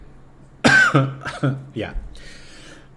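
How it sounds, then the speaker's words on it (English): Several coughs and throat-clearing sounds from a nearby person, a couple of sharp bursts followed by rougher rasps, with a brief spoken word mixed in. "Ending with coughing."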